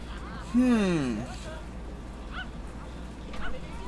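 A dog in The Sims 2 video game lets out a single rising-then-falling whine or yip, followed by quiet game background with a couple of faint blips.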